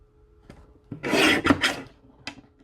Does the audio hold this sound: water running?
no